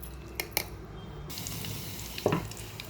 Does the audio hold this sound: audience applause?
no